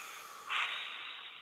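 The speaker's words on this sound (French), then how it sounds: "Une respiration et on relâche." A single breath released during guided meditation, a soft airy exhale that swells briefly and trails off, close and quiet with no talk over it.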